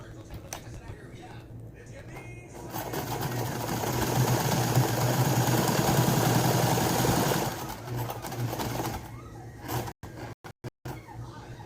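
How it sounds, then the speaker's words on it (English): A sewing machine quilts with machine quilting thread, building up to a steady close whirring run, then easing off into stops and starts, with talk heard around it. "this is machine quilting thread. And I'm just going to start quilting this."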